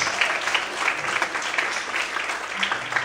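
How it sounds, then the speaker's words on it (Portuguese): A church congregation applauds in worship, producing a dense, steady wash of clapping that fills the room throughout. "Quantos podem levantar a mão para o céu e aplaudir, e glorificar, e adorar o nome de Cristo nesta noite?"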